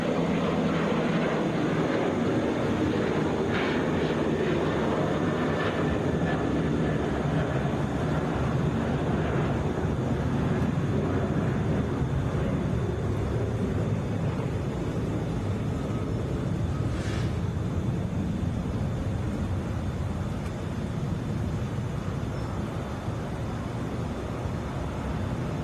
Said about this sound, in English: Delta 2523 coming in from Cleveland, Boeing 737.